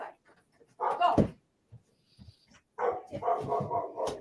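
A pet dog gives a couple of close barks and a whimpering yelp indoors, followed by someone speaking loudly nearby.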